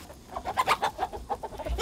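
Chickens in a coop cluck in quick, uneven bursts, fairly faint and close, with agitated short calls following one another and no voices.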